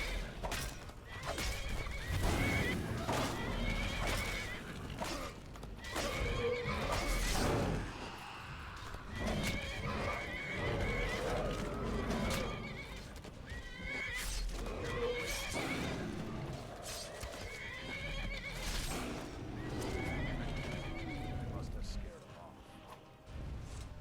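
Horses neigh and whinny repeatedly amid Skyrim combat with a dragon, their calls mixed with clip-clopping hooves, crashes and impacts, while a voice talks over much of the loud, busy scene.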